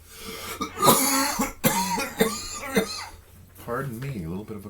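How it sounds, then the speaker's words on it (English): Several harsh, close coughs in a quick cluster, followed by someone speaking briefly. "Pardon me, a little bit of a cough."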